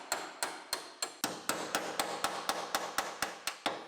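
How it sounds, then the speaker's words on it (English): A hammer repeatedly strikes a car's upper rail to break its spot welds, sixteen or so sharp metallic blows landing at an even, brisk rhythm, close and alone without talk. "I'm just going to hammer away this upper rail."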